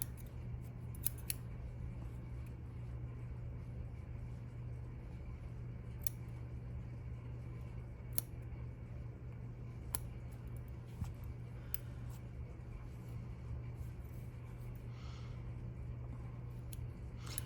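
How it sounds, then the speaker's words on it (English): Scissors snip mink fur cut from an old fur coat, trimming around a teddy bear's eye: sparse, sharp little cuts spaced apart over a steady low background hum. "so I'm gonna carefully trim some of that away"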